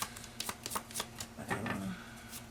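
A small deck of 22 tarot cards being shuffled, with a quick run of crisp papery riffles and slaps that build into a denser flutter midway, close and moderately loud, with no talking.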